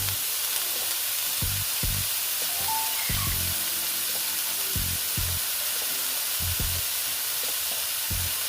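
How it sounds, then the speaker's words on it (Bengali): Cauliflower florets fry in a pan with a steady close sizzle, broken by a string of low thumps and scrapes as the pieces are stirred and turned. "এই কপিগুলো একটু ভেজে নেব। একটু ভেজে নিচ্ছি।"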